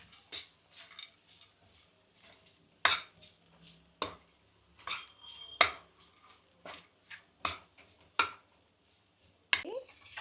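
Sesame, dates and cashews being mixed in a bowl by hand or spoon for a sweet laddu mixture, heard as sparse clinks and soft scrapes in an irregular rhythm, fairly quiet and close, with no talking.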